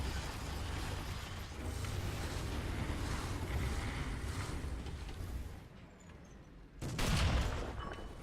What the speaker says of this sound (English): Our sector is under artillery barrage!